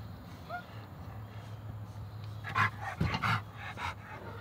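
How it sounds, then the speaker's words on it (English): Two dogs resting inside a backyard chicken coop pant quietly and close by, with a short rustle and a few soft whimpering sounds, heard over a steady low hum. "Look, we have two chicken dogs."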